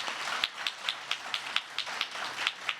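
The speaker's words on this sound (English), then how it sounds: "Give them all a round of applause, will you?" Sparse rhythmic clapping, faint and steady, from the audience at a naturalization ceremony, with roughly a dozen distinct claps over the span.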